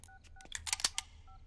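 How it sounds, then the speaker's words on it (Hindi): Telephone being dialed, a quick run of sharp touch-tone beeps and button clicks lasting about a second, close and moderately loud with no talking. "राकेश भाई, एक फोन सिडनी को।"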